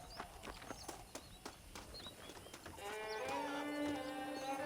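Horse hooves clip-clop at a moderate pace in a Western video game, the taps quiet and evenly spaced before a held, tonal sound takes over.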